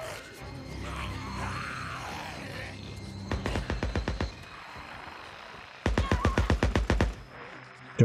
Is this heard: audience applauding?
no